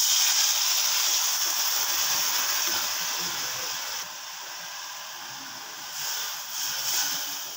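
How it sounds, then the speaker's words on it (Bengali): Spice paste of salt, turmeric and chili powder soaked in water fries in a wok for a tangra fish curry, giving a steady loud hiss that gradually eases. "এই বাটির মধ্যে জল দিয়ে নুন হলুদ আর লঙ্কা গুঁড়ো ভিজিয়ে রেখেছি, সেটাকে এখন আমি কষিয়ে নিচ্ছি। দিয়ে দিলাম কড়াতে।"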